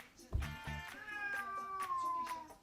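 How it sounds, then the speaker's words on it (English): A cat meows loudly up close, a long drawn-out wail that slides slowly downward after a sharp opening thump, with excited voices faintly around it. "Don't piss off the cat!"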